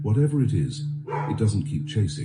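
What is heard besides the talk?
dog barking in the room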